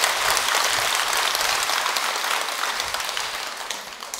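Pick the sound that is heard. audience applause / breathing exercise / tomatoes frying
audience applause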